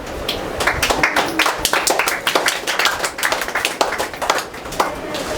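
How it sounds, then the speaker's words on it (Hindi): Audience in a church clapping for a participant: scattered, uneven hand claps close by, some sharp and distinct, continuing steadily without talk. "ताली ईसाऊ के लिए"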